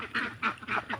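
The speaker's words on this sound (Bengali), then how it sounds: "এইখানে দেখছেন হাঁস" A duck on a farm gives four evenly spaced, nasal quacks, close and fairly quiet, with nothing else in the background.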